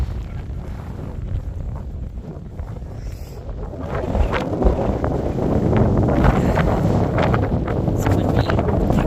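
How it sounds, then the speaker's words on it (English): Strong, cold wind buffets an outdoor campsite in a loud continuous roar with gusty rumble against the microphone that builds slightly toward the end. "It's windy and cold."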